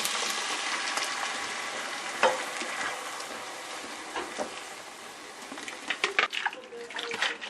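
Tomato goes into a hot pot for an egusi stew and sizzles steadily, a soft, continuous frying hiss with a few stirring clinks and sharper pops near the end.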